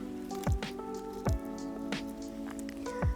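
Wet soil is worked into a ball by hand as water is added drop by drop, giving soft squelchy pats at a slow, even rhythm over a steady background hum.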